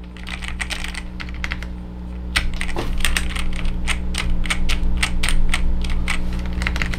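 Rapid typing on a Garuda GG82G mechanical keyboard during an NKRO test: dense, crisp clacking keystrokes, close and loud, sparse at first and then quickening into a steady burst.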